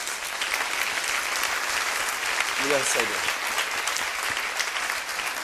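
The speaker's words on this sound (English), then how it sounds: "Please give him a round of applause." Sustained applause from the audience at an Empowering Women To Succeed event fills the space steadily, with a voice speaking briefly over the clapping.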